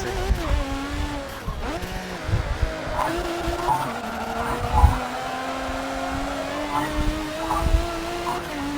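A Ferrari race car in a racing video game, its engine droning and rising in pitch while tires squeal and skid in stretches, steady and moderately loud, with no talking.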